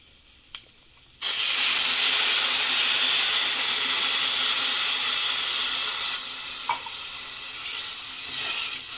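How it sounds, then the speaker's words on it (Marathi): Water added to a hot pan while making Maharashtrian pithla with fresh coconut bursts into a loud, steady steaming hiss. The hiss starts abruptly after a quiet moment, holds strong for several seconds, then eases slightly, with no voices. "पाणी आपलं छान उकळलेलं आहे"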